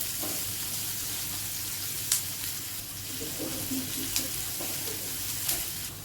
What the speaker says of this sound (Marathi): इथे मी एकच हिरवी मिरची टाकली आहे आणि परतून घेऊ आपण